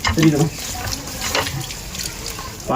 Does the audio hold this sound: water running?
yes